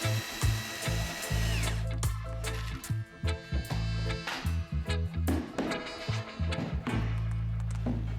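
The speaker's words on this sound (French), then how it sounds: "Commencez par visser les lattes au panneau, ensuite vissez au cadre également." Power drill driving screws through wooden slats into a panel and frame, repeated bursts of buzzing motor whine with short stops between screws, close and loud, no voices.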